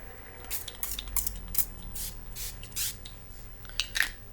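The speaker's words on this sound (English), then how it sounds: "So now I'm going to do the spray." A spray bottle gives a series of short, soft hissing bursts, about eight quick squirts in an irregular rhythm, close and faint over a low background hum.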